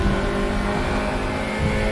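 A Formula Jr race car engine in the RaceRoom racing game, heard from onboard at Raceroom Raceway: a loud, steady, high-revving drone that holds throughout with no pause.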